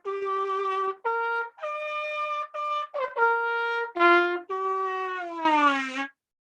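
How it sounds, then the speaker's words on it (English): Trumpet with holes in its side playing a string of sustained notes with audible pitch bending, each tone bright and close, ending on a breathy, noisy swell. "if you had a trumpet with holes in the side"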